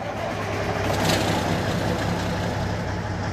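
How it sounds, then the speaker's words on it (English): Diesel truck engine in American Truck Simulator, cranking and settling into a steady, loud rumble with no speech over it. "Go ahead and get the truck started up here."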